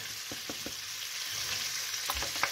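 Calamari sauté in a little olive oil in a pan, giving a low continuous sizzle with a few light taps and scrapes of a utensil, close and fairly quiet.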